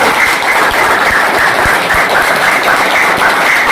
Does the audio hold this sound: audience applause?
yes